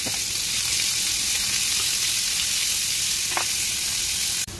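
Bitter gourd frying in a pan with garlic, a steady close hiss of sizzling oil that holds evenly throughout, with a faint clink of utensils near the end.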